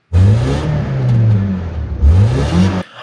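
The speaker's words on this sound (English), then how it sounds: "It's not a bad sounding exhaust." Loud car exhaust revving up and dropping back twice over about three seconds, a rough, raspy engine note rising and falling close by before cutting off.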